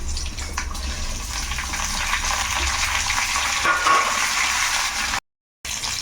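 Garlic, dried red chillies and curry leaves fry in hot oil for a tempering in a simple dal rasam, a continuous close crackling sizzle with faint stirring scrapes, cutting out briefly near the end.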